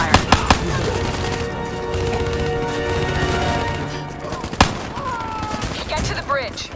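Rapid automatic gunfire crackles in Call of Duty: Black Ops III, dense bursts of shots with sharp impacts and a louder crack near the end, set against a tense game soundtrack.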